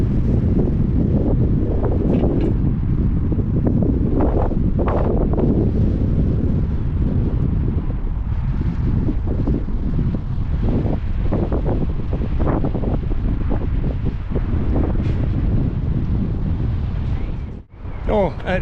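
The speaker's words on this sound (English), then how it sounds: "it's really pretty windy" Strong wind buffets a microphone throughout, loud low rumbling gusts with irregular thumps, heard from inside or beside a Vauxhall Cavalier CDX C20XE on a drive, with talk partly buried under it.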